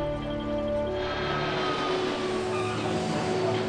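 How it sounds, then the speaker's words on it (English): A Qantas airliner on final approach into Melbourne, turning north of the field to line up with runway 16, makes a steady, fairly loud engine drone with a few sustained tonal hums and no voices. "Qantas 401 final approach into Melbourne. It's just turned north of the field,"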